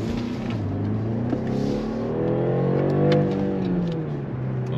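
A 2022 BMW 530e plug-in hybrid sedan accelerating from inside the cabin, a smooth rising engine drone with shifting tones, moderately loud and steady.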